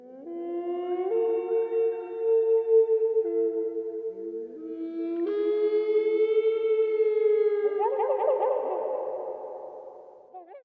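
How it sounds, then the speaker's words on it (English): A reconstructed Spinosaurus aegyptiacus roar: long, low and wavering with siren-like pitch glides, swelling and fading over several seconds, ending in a rougher, growling stretch. "This is how different dinosaurs used to sound like. Spinosaurus aegyptiacus."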